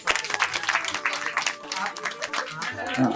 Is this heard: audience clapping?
yes